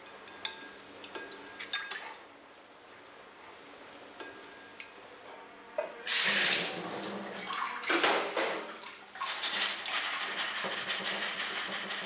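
Watermelon seeds placed into a container of water, a few quiet clicks and light taps at first, then a louder rushing splash and pouring of water that continues with swirling, bubbling texture.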